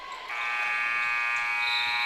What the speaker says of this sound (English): The buzzer sounded.